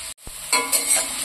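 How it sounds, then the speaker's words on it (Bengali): Carrots stir-frying in hot oil in a pan, a brief stir followed by a bright, steady sizzle that continues close up with no talk. "এবার একটু নাড়াচাড়া করে এই তেলের মধ্যেই ভাজতে ভাজতে সেদ্ধ হয়ে যাবে।"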